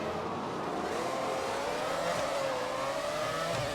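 Formula 1 cars accelerating off the grid at a race start in the video game F1 2009, a loud, continuous high engine whine rising steadily in pitch as the pack pulls away, with no talk.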